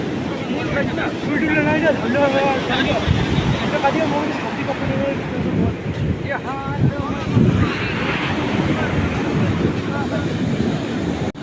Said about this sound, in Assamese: এইটো সাগৰৰ ঢৌ চাওক, ইমান ধুনীয়াকৈ ঢৌকেইটা উঠিছে নহয়